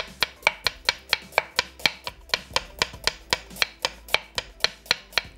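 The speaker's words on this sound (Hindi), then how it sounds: "ले लेते हैं जनाब 1 अदद प्याज, और इसको बारीक स्लाइस करने के बाद चॉप कर लेते हैं" An onion is finely chopped with a knife on a board in a home kitchen, giving about twenty crisp, evenly spaced chops at a steady quick rhythm, close and clear with no talk.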